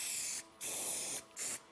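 A $5 can of spray paint from Walmart hisses in three short bursts with brief pauses between them, close and fairly loud, as it touches up scratched paint on a Tesla car.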